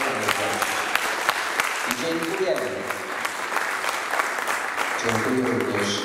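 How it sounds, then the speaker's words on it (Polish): Applause from an audience at a school year opening ceremony, a sustained crowd of clapping hands filling the space, with a voice speaking over it partway through. "Ogromne brawa jeszcze raz."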